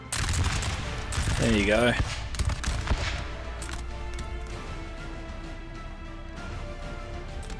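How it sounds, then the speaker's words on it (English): Musket volley fire in the video game Napoleon: Total War, a loud ragged crackle of many shots in the first two seconds. It trails into scattered reports and battlefield din while someone speaks briefly. "Broke him in a single volley."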